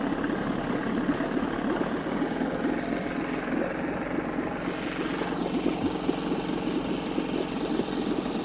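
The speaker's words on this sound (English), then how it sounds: "And it does idle right down too" A 1976 Johnson 9.9 HP outboard motor idles low and steady, a continuous even putter close by with no speech over it.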